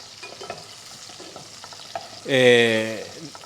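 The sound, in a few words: peppers frying in a pan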